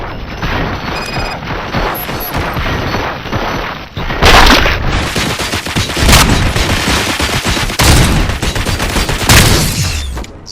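Heavy gunfire in Robocop: Rogue City, a dense, loud fusillade of rapid shots with booming bursts around four, six and nine seconds and no talking.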